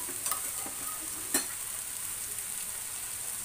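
Boiled peas stir-fry in a pan for a methi matar dish, giving a soft, steady sizzle with a few light scrapes and one sharp tap near the middle.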